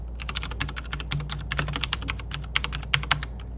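Quick bursts of keystrokes on a computer keyboard as router commands are entered, crisp close clicks in an irregular rhythm with brief pauses between runs, no voices.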